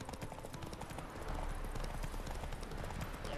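Hooves clip-clop in a fast, steady galloping rhythm as a horse races in The Witcher 3 game, close and continuous with a dull background rumble.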